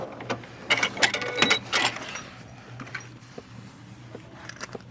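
Sewing machine stitching a fabric bag runs in quick rattling bursts, busiest early on, then slows to sparse clicks over a low steady motor hum, close and moderately quiet with no talk.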